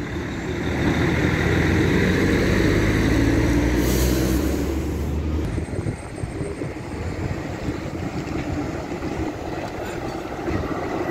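A tram passes along a Belgrade street, a loud rolling rumble with a brief hiss near the middle, then easing into lower, rougher traffic noise as it moves off.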